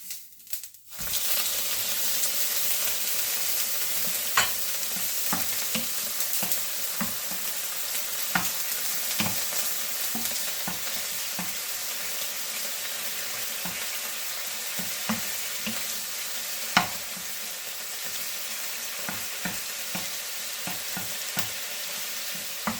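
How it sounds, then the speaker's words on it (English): Prawns frying in a hot pan at the start of a stir-fried egg noodle dish, a continuous close sizzle broken by frequent sharp clicks and scrapes of stirring, with no talk. "And then I'm going to start to cook prawn first."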